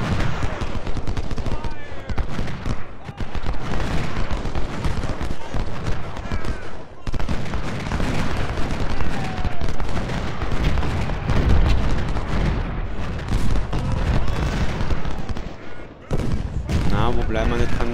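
Dense musket volleys, rattling gunfire and deep artillery booms from a Civil War battle in the strategy game Ultimate General: Civil War, loud and continuous with overlapping bursts, while someone talks over the battle.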